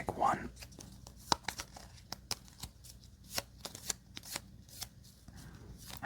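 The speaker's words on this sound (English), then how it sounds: "we're just gonna try to shuffle normally" A standard deck of playing cards is shuffled by hand in a quiet room, giving a run of crisp riffling snaps and soft sliding flicks at an irregular pace, close and gentle.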